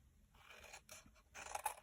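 Scissors snip through paper while making small scrapbooking boxes, several close, dry cutting strokes in quick succession with brief pauses between, no voices.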